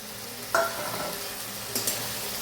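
Slit green chillies and salt being stirred in a frying pan of frying tomato, with a steady sizzle and two sharp scrapes of the spatula against the pan.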